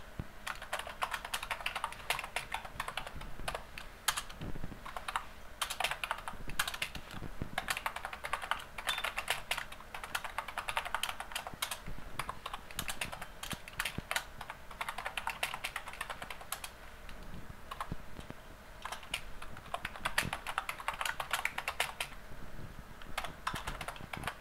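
Code is typed on a computer keyboard in quick irregular bursts of close, crisp key clicks, with brief pauses, continuing steadily and without any voices.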